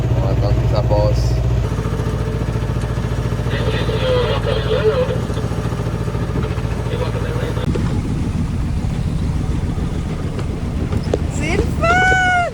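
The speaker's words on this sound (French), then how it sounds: "Mais bon, là on a parti le moteur," Inboard engine of a 9 m sailboat running at sea during a Gulf Stream crossing, a steady low drone throughout with voices talking over it.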